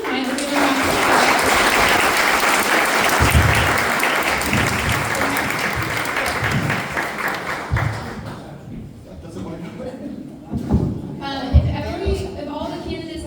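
Audience giving a round of applause at the close of an evening political event, dense clapping for about eight seconds that thins into scattered claps and thumps with a few voices as it fades out.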